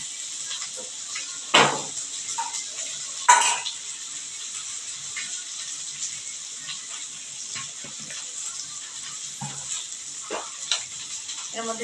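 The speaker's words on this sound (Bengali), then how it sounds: "তো এটা এখন একটু কিছুক্ষণের জন্য ফ্রাই হোক।" Vegetables fry in a pan with a steady hiss and sizzle, punctuated by a few sharp stirring clatters and scrapes that stand out close and loud.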